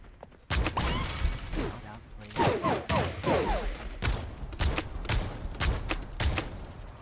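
Revolver fire in Realm Royale, a series of punchy shots at irregular intervals, loud and close, with a player talking over and between them.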